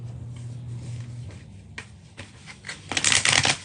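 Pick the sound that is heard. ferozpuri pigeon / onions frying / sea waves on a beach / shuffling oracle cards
shuffling oracle cards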